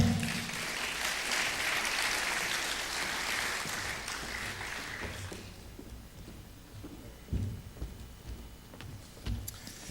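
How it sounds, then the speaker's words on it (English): A conference audience applauds as a speaker walks onto the stage. Steady, full clapping fills the first half, then fades into quieter room noise with a few stray bumps. "please applaud him as he comes onto the stage"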